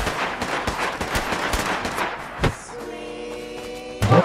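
Rapid automatic gunfire rattles in the video game Fallout 4, a dense burst of sharp repeated shots that gives way to a humming tone with an occasional single thud.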